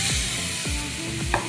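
Pointed gourd paste fries in oil with chopped onion, chilli and garlic, sizzling steadily while a utensil stirs and scrapes the pan in a few quick, rhythmic strokes up close.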